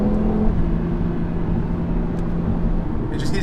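A 2019 Audi RS3 engine hums steadily from inside the cabin while driving, a constant low thrum with harmonic tones that hold and then drift slightly, with no talking over it.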